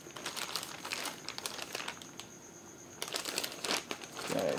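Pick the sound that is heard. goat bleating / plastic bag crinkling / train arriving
plastic bag crinkling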